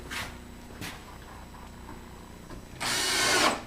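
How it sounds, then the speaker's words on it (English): A cordless power drill drives a screw into a wooden dollhouse wall, a short loud whirring burst near the end, preceded by a few faint clicks and handling taps. "We'll install 2 screws again."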